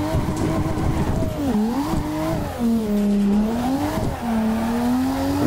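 A forklift drifting in a VR driving game, its engine droning steadily while drawn-out tire squeals rise and fall through several sweeping turns, loud and continuous.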